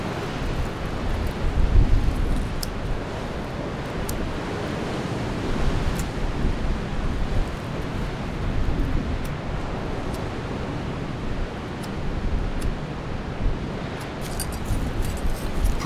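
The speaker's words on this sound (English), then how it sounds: "It's just a bit windy" Wind gusting through a cave campsite on a cold day, a constant broad roar with slight swells and occasional faint clicks, no one talking.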